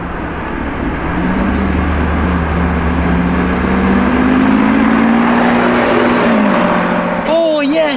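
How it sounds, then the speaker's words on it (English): A white Lamborghini Revuelto supercar with a black engine cover drives past, its engine tone rising and falling steadily over about seven seconds at moderate distance, with a voice talking briefly near the end. "Oh, hell yeah, another white Revuelto is coming back."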